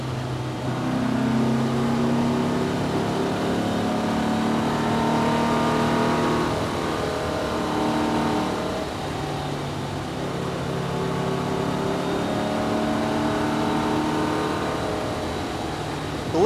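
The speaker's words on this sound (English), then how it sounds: "The little 912 engine's also doing well." A Porsche 912 four-cylinder engine drones steadily from inside the car as it is driven hard through corners, its pitch rising and falling with each throttle change, continuous and moderately loud with no talk.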